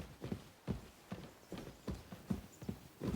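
Horse hooves clip-clopping at a steady walking rhythm in the video game Kingdom Come: Deliverance II, close and distinct with even beats and no talk.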